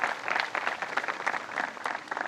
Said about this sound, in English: another round of applause for each and every one of you